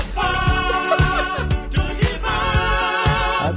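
A large group of Russian police officers sings a song together on a theater stage, upbeat electronic pop over a steady thumping beat, full and loud.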